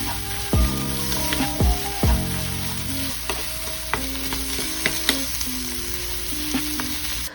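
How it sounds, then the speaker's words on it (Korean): Pasta sauce being stir-fried briefly in a pan over residual heat: a continuous soft sizzle under repeated metallic clanks and scrapes of a utensil against the pan, close up and without speech. "소스가 쉽게 탈 수 있어서 잔열로 살짝만 볶아주시면 돼요"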